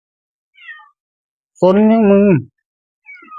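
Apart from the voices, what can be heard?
cat meowing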